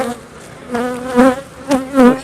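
Honey bees buzz close around a fully capped, heavy frame of honey during a harvest, a rising and falling drone that swells in several loud passes.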